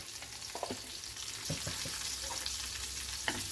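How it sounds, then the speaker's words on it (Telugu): Curry leaves, mustard seeds and two dried red chillies sizzle in hot oil in a kadai, tempering for a yam peel chutney: a steady frying hiss broken by several sharp pops and crackles. "అదే మూకుడు పెట్టుకున్నాను అంతే నూనె ఉన్నది అందులోని కరివేపాకు కొంచెం ఆవాలు రెండు ఎండు మిరపకాయలు ఈ పోపు వేసుకోవాలండి"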